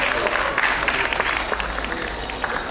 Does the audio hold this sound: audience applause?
yes